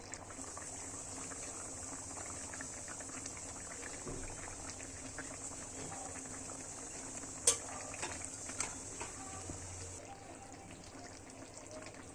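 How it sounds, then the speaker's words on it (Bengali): Mustard and eggplant fish curry gravy simmers in a pan, a steady, faint bubbling hiss with a few soft clinks, continuous throughout and no one speaking. "ঝোলটা ফুটে গেলে এখানে মাছগুলো দিয়ে দেব।"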